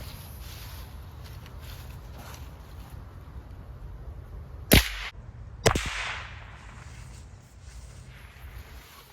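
Benjamin Trail NP XL .177 air rifle firing Crosman 7.0-grain lead pellets: two sharp, loud cracks about a second apart over a quiet background hiss, with no talking.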